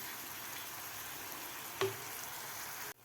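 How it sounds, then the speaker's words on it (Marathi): Tomato-onion masala for egg curry sautéing in a pan, a soft, steady low sizzle with one brief sharp clink partway through, quiet and close, cutting off abruptly near the end. "आता मसालासुद्धा आपल्याला तीन ते चार मिनिट व्यवस्थित परतून घ्यायचा आहे"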